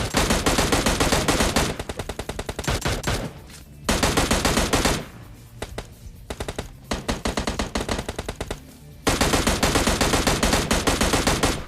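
Bursts of rapid automatic gunfire in the PUBG video game, loud and close, in long sustained volleys broken by brief pauses and quieter stretches of scattered shots.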